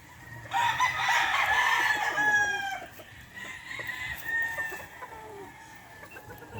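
Gamefowl rooster, a Lazy Roundhead bull stag at a game farm, crowing loudly and close in one long drawn-out call, then a second fainter call with clucking and other birds audible in the background.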